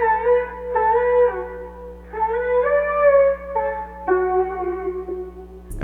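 A sung vocal sample from Splice, one voice holding long melodic phrases in several sustained lines with short breaks between them, clear and close with no other instruments.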